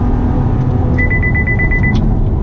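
A 2019 Chevrolet Camaro RS engine and road rumble fill the cabin, loud and steady throughout. A quick series of about eight short electronic beeps sounds midway.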